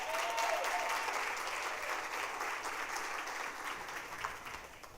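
A large audience at a women's empowerment event in Durban gives a big round of applause, a loud, sustained wash of clapping that gradually tapers off.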